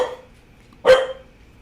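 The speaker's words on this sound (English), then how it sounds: "our dog is committed to barking at the people in the hallway some days" A household dog indoors lets out one sharp, loud bark at people passing in the hallway, with quiet before and a short fade after.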